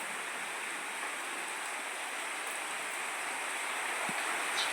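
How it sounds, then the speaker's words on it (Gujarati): Steady rain pours down, a soft continuous hiss of falling water with no voices, fairly even and moderately distant. "આજે વરસાદ પણ ચાલુ થઈ ગયો છે"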